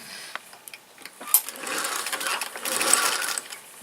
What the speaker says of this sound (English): Fold, fold, and then you're going to stitch.